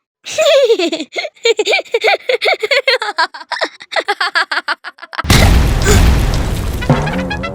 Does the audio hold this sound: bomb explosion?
yes